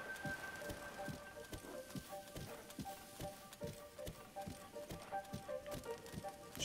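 In Zelda: Breath of the Wild, a horse trots through the Lost Woods near the Korok Forest, its hooves tapping in a quick regular rhythm, quiet, over a faint sustained tonal backdrop.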